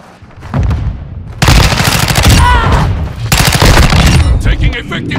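Rapid automatic gunfire in Call of Duty: Modern Warfare II, loud and close, coming in two sustained bursts of dense shots separated by a short lull, with game radio voices faintly underneath.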